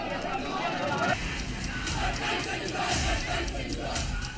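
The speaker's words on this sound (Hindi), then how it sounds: "लोगों ने नारेबाजी करते हुए प्रदर्शन किया।" Hundreds of protesters gathered outside a mosque shout slogans together, a dense, continuous roar of raised voices filling the air without pause.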